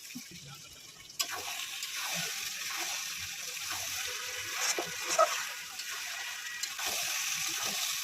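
Potatoes and boiled mutton fried down in their own stock in a pan, a continuous wet sizzle and bubbling with occasional stirring scrapes, moderately loud and steady with no voices.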